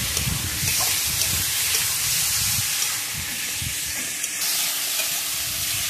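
Poppy seed paste with turmeric frying in a pan while being stirred, a close, continuous sizzle and hiss with scraping stirs, steady and fairly loud without any voices.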